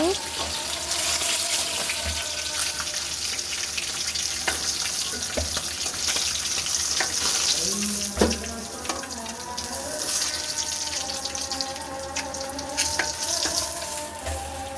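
Tilapia fish frying in hot oil in a pan, a steady sizzle with crackling pops and some clatter of kitchen utensils throughout, close and fairly loud with a bit of background voice.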